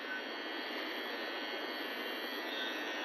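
An electric beard trimmer runs continuously up close during a beard trimming, giving a steady high-pitched buzzing whine with no talking over it.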